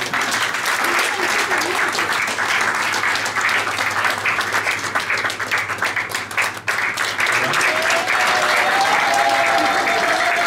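Sustained applause fills a political party meeting, a dense steady roar of many hands clapping with a few voices mixed in, loud and continuous across the whole stretch.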